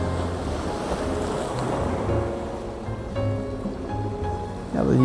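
Sea waves break and wash steadily along the shore at sunset, with a continuous rushing surf and a low wind rumble, and a louder surge near the end.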